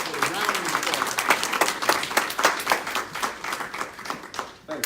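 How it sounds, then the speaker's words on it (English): Audience applause at a Sacramento real estate lunch-and-learn event, a dense wash of many hands clapping that continues for several seconds and then thins out as it fades. "up with a round of applause"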